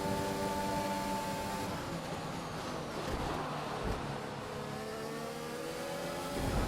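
A Formula 1 car engine in the F1 2021 racing game, on the Italy round, screams loudly and continuously near the listener. Its pitch rises and falls as the car revs, shifts and works through a corner.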